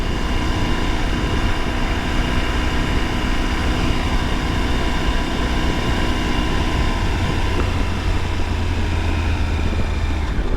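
A 2023 Triumph Tiger 900 Rally Pro motorcycle carrying two riders, its engine holding a steady, continuous drone with heavy wind rush throughout, loud and close with no speech.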